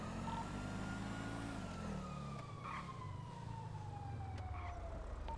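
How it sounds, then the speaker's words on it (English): An ambulance siren in the game GTA V wails steadily and fairly loud over a low rumbling engine drone, its pitch sweeping slowly downward throughout, with no talk. "Yo, there's an ambulance behind us."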